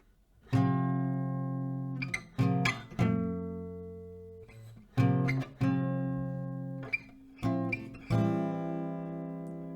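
Acoustic guitar chords ring out one after another, each strummed and left to decay, forming a slow progression played close up with no voices.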